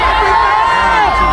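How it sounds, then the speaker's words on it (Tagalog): A large crowd at an Iglesia ni Cristo rally at a grandstand shouts and cheers in a dense, loud burst of many overlapping voices, brief and continuous. "Sigawan sila."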